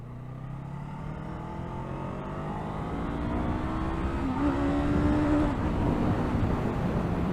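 A Honda SCL500 scrambler motorcycle engine revs steadily and climbs in pitch, with a brief hitch in the tone partway through as a gear shift is missed, loud and close with no talking.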